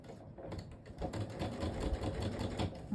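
A sewing machine runs steadily, stitching a seam a quarter inch from the fabric edge, its fast mechanical whir and clatter close and continuous for the whole stretch, with no voices.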